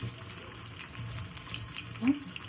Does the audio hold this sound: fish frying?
yes